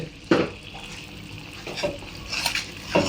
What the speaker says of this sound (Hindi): तो ये चीनी डाल के इसको मिक्स कर लेंगे